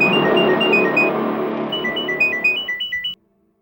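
A telephone rings with a repeating electronic ringtone melody. The ring is loud and close, pulses in quick bursts, and cuts off abruptly after about three seconds.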